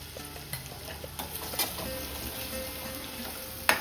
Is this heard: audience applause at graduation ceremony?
no